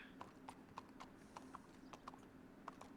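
Horse hooves clip-clop at a steady walking pace on a western ranch in a roleplay video game, the hollow knocks quiet and evenly spaced against a faint background hum.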